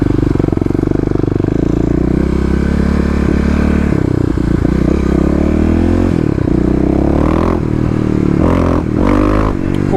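A Kawasaki KLX351 EFI motorcycle accelerating hard, loud and close, its engine note climbing through the gears with rising revs and brief dips between shifts.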